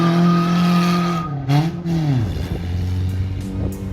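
A street-legal car from Slovakia drives past with a loud, steady engine tone that drops sharply in pitch midway, followed by tire squeal and rougher lower engine noise.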